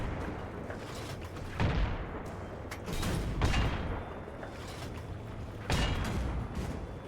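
Heavy tank cannon blasts in a Battlefield 3 armored battle, several booming shots spaced a few seconds apart over a constant engine rumble, loud and close.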